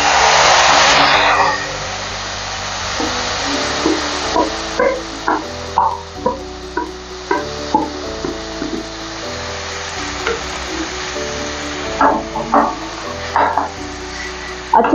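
Marinated chicken for a Kolkata-style chicken stew hitting a hot pan, a loud burst of sizzling at first that settles into steady frying, broken by repeated clanking knocks of stirring, with no talk.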